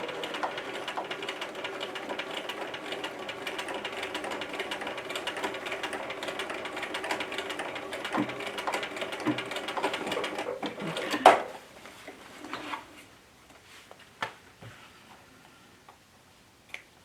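A sewing machine stitches slowly through thick dark denim on a tote, a steady rapid mechanical chatter lasting about eleven seconds before stopping, followed by a few scattered clicks and handling noises.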